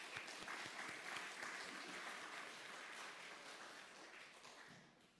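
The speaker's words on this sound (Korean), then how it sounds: "우리 할렐루야 찬양대와 주일 경배 찬양팀 축복하고 격려하는 박수 한 번 더 하겠습니다." Congregation applause for a church choir and worship team during a Sunday service, a steady wash of many hands clapping at moderate, fairly distant level for several seconds, tapering slightly at the end.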